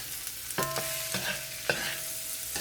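Vegetables stirred into cooked noodles in a pan for meatless Pad Thai, with a soft sizzle underneath and three or four distinct scraping, clattering stirs close by.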